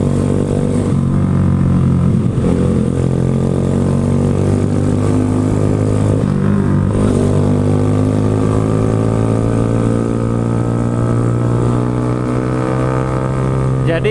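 A motorcycle engine fitted with a quick-response throttle drones loudly and continuously up close, its pitch rising and falling with throttle changes, while someone talks over it throughout.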